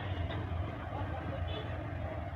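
Street traffic in Diphu, Karbi Anglong, on a hot day: a steady low rumble of passing cars and motor vehicles, continuous and moderately loud, with no clear speech over it.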